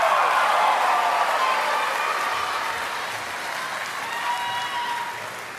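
Sustained applause from an audience at a Tongan lifetime achievement awards ceremony, a dense steady wash of many hands clapping that slowly thins and softens over several seconds.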